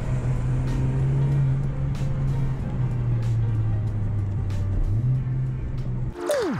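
Inside a Honda Civic Type R FK8, the engine drones at a steady low pitch, then blips sharply higher near the end as it rev-matches on a downshift.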